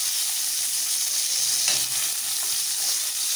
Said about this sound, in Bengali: টমেটোগুলো ভাজা হচ্ছে।